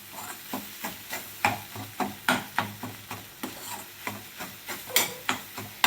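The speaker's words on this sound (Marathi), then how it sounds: "चवीनुसार मीठ घालून आपल्याला हे परत एकदा मिक्स करायचं आहे व्यवस्थित" Beaten eggs stirred together with salt in a bowl for egg bhurji, making quiet, evenly spaced scraping strokes about twice a second, close by and soft, with no talking.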